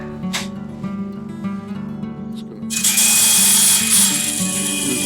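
A power drill spins a CBN grinding wheel during cleaning, starting with a humming whir and rising to a louder, harsher grinding drone for the last couple of seconds.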